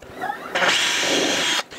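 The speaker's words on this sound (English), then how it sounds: "I'm just drilling these out by eye." A short burst of a power drill spinning up while drilling holes in a wooden shelf, whirring for about a second, then cutting off.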